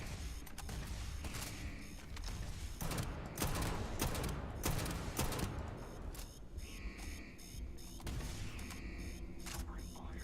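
Gunfire in Starfield, repeated loud shots and bursts mixed with clanking mechanical noise, continuous and dense throughout, with a voice speaking now and then.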